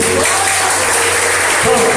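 A church congregation claps together in a steady, loud burst of applause, with a voice speaking over the clapping.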